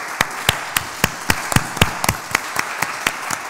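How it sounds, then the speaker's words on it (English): A few people at an international conference clap to thank the presenters, about a dozen sharp distinct claps at an uneven rhythm, close and fairly loud, sounding like a small handful of hands rather than a crowd. "Shouldn't we then make an applause and say thank you?"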